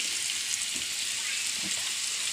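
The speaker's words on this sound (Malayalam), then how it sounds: "കോഴിയെടുക്കാം എണ്ണയിൽ തന്നെ അതിലേക്കുള്ള മസാല ഉണ്ടാക്കണം അപ്പോൾ സവാള ഇട്ടു സവാള ഒന്ന് വാടി" Onions frying in oil for a chicken biryani masala, a steady dense sizzle that holds evenly throughout without any voices.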